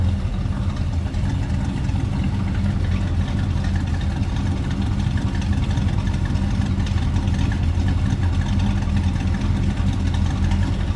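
A 1972 Chevrolet C10 pickup's 350 V8 idles in a deep, steady rumble with a low, even throb, close and fairly loud, no voices over it.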